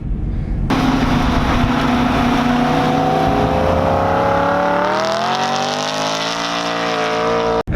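Tuned BMW E90 M3 on a race track with 20-inch wheels, its engine loud and steady under load, pitch holding then climbing sharply as it accelerates through the run before cutting off at the end.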